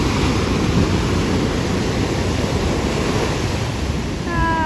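Ocean surf at a beach in Canggu makes a steady, broad wash of breaking waves, with some wind noise against the microphone.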